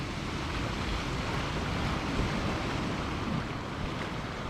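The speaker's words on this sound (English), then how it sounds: "This is what I wanted to see on this video, a bit of excitement with the waves." Sea waves roll along the Scottish coast in a continuous broad wash of surf, with wind rushing over the microphone. The roar stays steady and loud throughout, with no voices.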